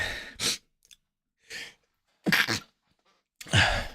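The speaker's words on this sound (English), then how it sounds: "Excuse me, I'm going to sneeze." A person sneezes close by, with a few short breathy bursts and gasps spaced across a few seconds, separated by silence.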